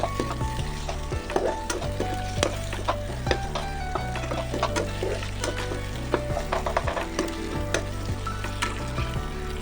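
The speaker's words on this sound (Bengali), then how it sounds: "1 চামচ লবণও দিয়ে দিলাম ডিমের মধ্যে, দিয়ে আমি কিন্তু এটাকে ভাজবো।" Salted beaten eggs fry in a pan with loud, continuous sizzling and crackling, broken by frequent scraping and clinking stirs of a utensil against the metal. No voices are heard.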